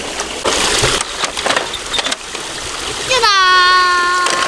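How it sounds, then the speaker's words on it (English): A splashy tumble of rocks and ice from a toy dump truck lands in water, followed by a brief rising, tonal voice-like sound near the end. "Push that stuff into the water, Jack."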